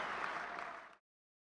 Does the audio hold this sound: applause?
yes